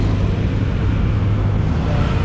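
Traditional jeepneys and other vehicles rumble through traffic beneath an expressway, a constant, loud, low engine drone with no talking.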